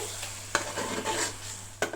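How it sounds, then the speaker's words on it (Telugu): Chili powder frying in oil while a spoon stirs it in a pan, a soft close sizzle with a few sharp scraping knocks of the utensil, no talking. "ఈ మొత్తాన్ని కూడా ఒకసారి కలిపి కారం కూడా కొంచెం ఆయిల్లో ఫ్రై అవనిద్దాము"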